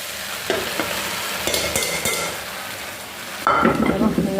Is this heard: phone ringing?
no